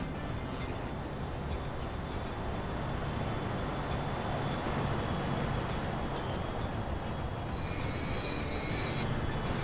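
Freight train in the Transport Fever game rolling through a rail yard, a steady broad rumble of wheels on track with high squealing tones rising near the end, continuous and fairly loud with no talk.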